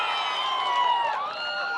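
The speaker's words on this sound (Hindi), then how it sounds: "तालियों के साथ स्वागत कीजिए" Studio audience at a televised political debate show in Gaya, Bihar, cheering and whooping in a dense, steady crowd roar that swells briefly, with no clear individual claps standing out.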